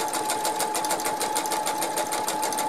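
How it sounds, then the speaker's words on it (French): Sewing machine stitching curtain fabric right along the selvedge, running in a steady, fast, close mechanical hum with a rapid needle rattle and no pauses. "je couds vraiment à la lisière"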